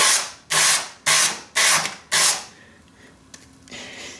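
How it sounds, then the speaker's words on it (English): Hand sanding burrs off a roughly cut metal edge during a generator outlet upgrade from TT-30 to L5-30 twist-lock: four near, loud rasping strokes in a steady rhythm, then quiet with faint clicks. "I will be able to give it a quick sanding"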